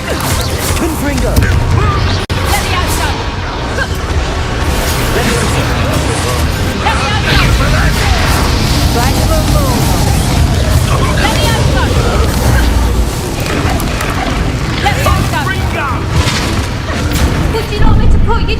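Fire-spell explosions from Hogwarts Legacy combat, played on hard difficulty, booming continuously amid dense battle noise and crashes. A voice talks over the din throughout.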